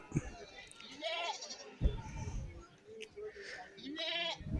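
Goats at a Kerala goat market, small male goats nearby, let out several short, wavering bleats close by, mixed with someone talking over the busy market background.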